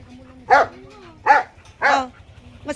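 A dog barks three times at a steady pace, close and loud, with a fourth bark beginning at the end, and quiet background noise between barks.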